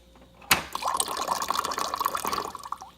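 Cold water pours from a Glacier Bay bottom-load water dispenser, starting with a sharp onset and running as a steady, splashy stream close by for a few seconds, then easing near the end.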